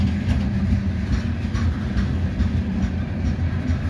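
A loaded CSX coal train of hopper cars rolls past heading south, a steady, continuous heavy rumble of wagons with faint rhythmic rail clatter, fairly close and alone.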